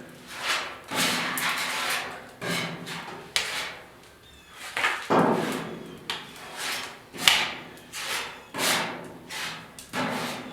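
Coarse 40-grit sandpaper scrubs body filler on the hood of a 1956 Ford pickup, making rhythmic rasping strokes about once a second, each swelling and fading, close and fairly loud.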